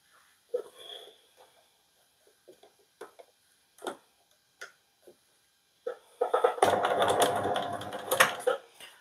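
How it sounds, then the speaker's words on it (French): A sewing machine straight-stitches trim onto a blouse sleeve, starting after scattered light clicks and handling noises, then running loud and steady in a dense whirring burst for the last few seconds. "pour piquer mon galon, je vais simplement le piquer comme ça au point droit à la machine sur l'endroit"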